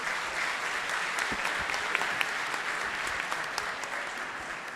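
Steady applause from an audience welcoming Cristiano Zanin, a minister of Brazil's Supreme Federal Court, onto a panel; dense, even clapping at moderate level throughout with no break.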